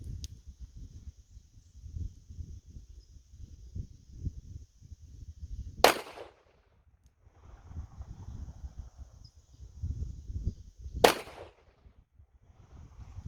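Two sharp, loud Smith & Wesson Model 60 revolver shots ring out several seconds apart at targets outdoors. Each report is a crisp crack, heard over low wind rumble and faint handling noise between them.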